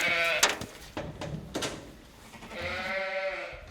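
Ewes bleat in a winter sheepfold, with several wavering calls overlapping at close range among rustling and shuffling of the flock.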